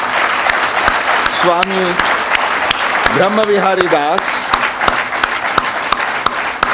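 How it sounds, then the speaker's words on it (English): An audience breaks into warm applause to welcome a speaker at a spiritual talk, sustained clapping filling the room while a voice calls out over it. "Let us welcome with a very warm round of applause"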